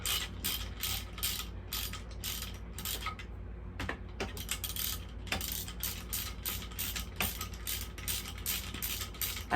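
A hand wrench ratchets steadily during a mini bike engine rebuild, giving close, rapid, evenly repeated clicking strokes throughout, with brief pauses between bursts.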